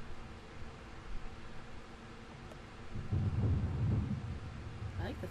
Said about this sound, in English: I like the thunder.